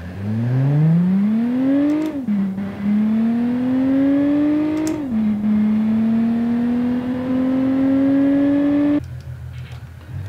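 Raptor GT6 engine in the game Automation accelerating hard, rising in pitch through two gear shifts with brief dips, then holding a steady high drone before cutting off; loud and alone.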